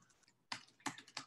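Fingers tap out a quick, irregular run of keystrokes on a computer keyboard, close and quiet, with short bursts of clicks and brief pauses between them.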